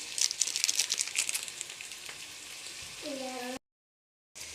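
A plastic bag is handled in a kitchen, giving a burst of close crinkling and rustling that fades, followed by a short spoken phrase.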